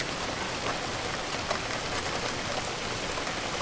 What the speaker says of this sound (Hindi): बाहर अभी भी बारिश हो रही थी